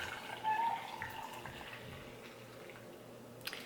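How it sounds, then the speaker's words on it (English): Hot water pours into a tea infuser holding rooibos tea, a faint, steady liquid trickle with a brief splashy surge early on. "pour in the water"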